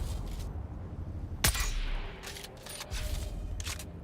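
Video game gunfire with poison rounds: bursts of rapid shots and one sharp, loud crack near the middle, over constant low rumbling background noise from the game.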